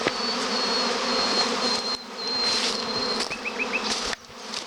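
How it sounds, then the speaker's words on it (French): Honeybee swarm buzzing thickly around a beehive during swarming, a dense close hum with individual bees whining past the ear, continuous and fairly loud. "Bien sûr, je suis en plein milieu des abeilles"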